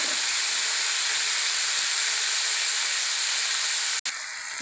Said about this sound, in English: Now tomatoes and onions I'm going to fry in this.